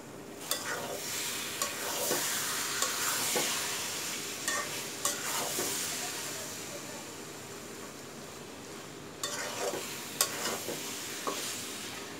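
A sweet-and-sour instant mango pickle mixture with bay leaves is stirred in a hot pan, a continuous close sizzle broken by scraping stirring strokes.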